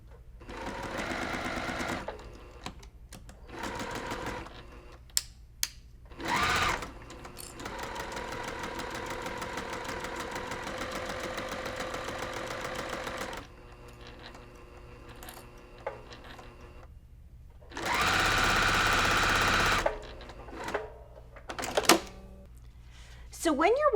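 A sewing machine stitches a quarter-inch seam on a fabric mug rug in steady whirring runs broken by short pauses, and a longer, louder burst comes near the end. A person talks over and between the stitching.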